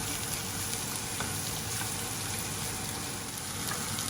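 Onion fries in a pan, giving a dense, even sizzle with faint stirring scrapes, steady and close, with no voices.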